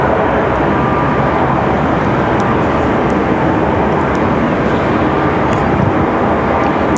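A Mesa Airlines airplane arriving at Raleigh-Durham airport makes a steady, loud broadband roar that holds constant throughout, close and unbroken, with no voices.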